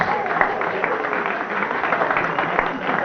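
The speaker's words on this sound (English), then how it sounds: "Give them a round of applause." A pub quiz crowd at a tavern claps for a team, a dense, steady wash of applause throughout with some voices mixed in.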